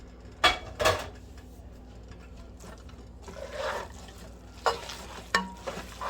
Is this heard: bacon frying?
yes